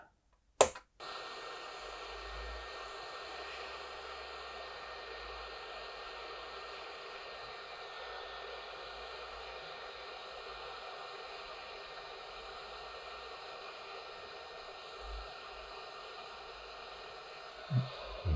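Hot air blower heating a chip on a Spectrum circuit board, a soft steady rushing hiss that continues evenly for the whole stretch, with a click at the start and a couple of small knocks near the end.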